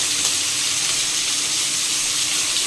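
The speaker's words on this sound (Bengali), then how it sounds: "একটা কড়াই নিয়ে কড়াইতে মোটামুটি 2 চামচ সাদা তেল নিয়ে নেব। এর মধ্যে চিংড়ি মাছ দিয়ে দেবো।" Prawns frying in about two spoons of hot white oil in a wok over a high flame, a dense steady hiss and sizzle close up that runs through the short stretch without talk.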